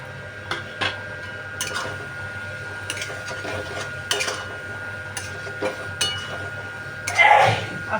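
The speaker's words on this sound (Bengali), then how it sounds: "আস্তে আস্তে সাবধানে নাড়বেন" A spoon gently stirs duck eggs in a spicy curry in a pan, giving scattered soft clinks and scrapes against the metal, with a slightly louder clatter near the end over a low steady hum.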